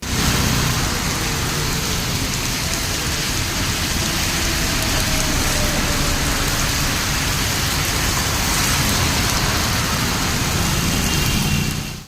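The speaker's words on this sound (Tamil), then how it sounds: "நான்காவது நாளாக இன்றைக்கும் மழை தொடர்ந்துக்கிட்டு இருக்கு பாருங்கள்" Heavy rain pours down in a steady, loud, unbroken wash on the fourth straight day of Cyclone Ditwah's downpour in Chennai, with no voices over it.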